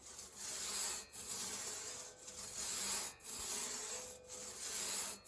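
Crosscut saw cutting through wood in steady back-and-forth strokes, a rasping scrape with brief pauses about every second as the stroke reverses, close and fairly loud with no talking.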